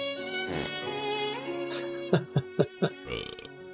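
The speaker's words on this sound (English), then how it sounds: "And burp." A game character in The Procession to Calvary lets out a loud, close burp, followed by a run of four short, sharp guttural bursts and a final rolling belch.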